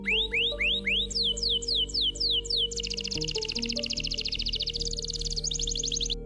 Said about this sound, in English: Goldie's bird of paradise.